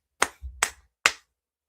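One person claps their hands three times during a podcast-style talk show, sharp and close, with short pauses between the claps and silence afterward.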